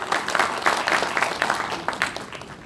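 A hall audience claps steadily at a football association inauguration ceremony and awards evening in Ansan, a dense, even round of applause holding at moderate loudness throughout.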